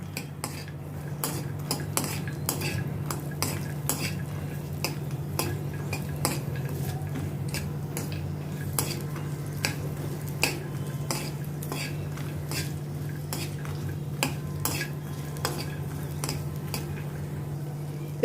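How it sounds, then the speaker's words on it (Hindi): A spoon scrapes and clinks steadily against a pan as almonds, cashews and peanuts are dry-roasted without oil, the regular metallic taps sounding close over a low, constant hum. "आलमंड्स को भी इनके कैशू नट्स और पीनट्स के साथ रोस्ट करती हूँ।"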